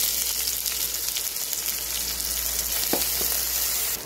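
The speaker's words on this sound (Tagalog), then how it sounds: "Lagay lang yung bawang. Lutuin lang hanggang sa mag golden brown." Garlic sautés in a pan until golden brown, giving a continuous dense sizzle with a couple of brief utensil scrapes and no speech.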